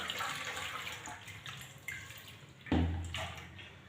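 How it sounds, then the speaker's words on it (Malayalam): A brass lamp rinsed under running water, with a close, splashing rush of water from a tap that surges louder near the end. "അതിനുശേഷം നമുക്ക് വെള്ളത്തിൽ നിന്ന് കഴുകിയെടുക്കാം"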